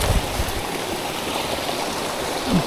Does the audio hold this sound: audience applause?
no